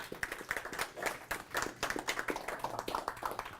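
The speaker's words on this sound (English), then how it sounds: "Let's give them a round of applause." A small audience claps at a general meeting, a brief, sparse patter of hands that sounds close and fairly quiet, with no voices over it.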